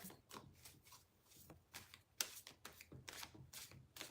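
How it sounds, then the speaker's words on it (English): Tarot cards are shuffled by hand in quick crisp riffling bursts, soft and close, in a steady irregular rhythm with no talk. "I just want to get a good shuffle on the cards."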